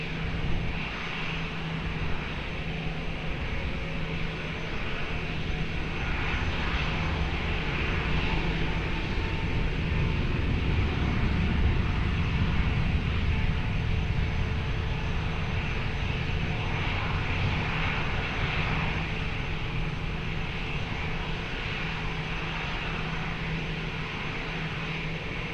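An airliner takes off from runway 20 at Lisbon Airport, its engines a loud, sustained roar that swells toward the middle and then eases, with no voices.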